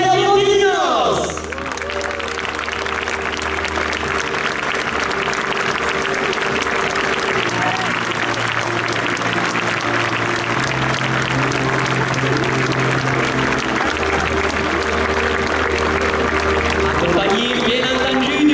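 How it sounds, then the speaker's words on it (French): A crowd at a bullfight arena in Saintes-Maries-de-la-Mer applauds long and steadily as a raseteur is welcomed, with sustained clapping and crowd noise under background music and tones. "nous allons accueillir tous ensemble le raseteur Gabriel Ayondinos"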